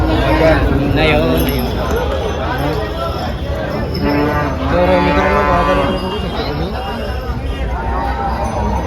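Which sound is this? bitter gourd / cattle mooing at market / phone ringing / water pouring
cattle mooing at market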